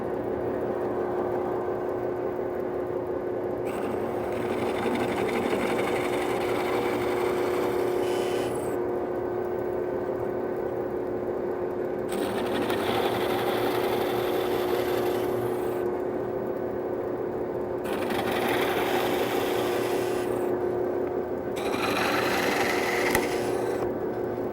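A plug-cutting bit in a drill bores wooden plugs from a board, a constant whining drone with repeated bursts of harsher cutting noise as each plug is drilled, no talking.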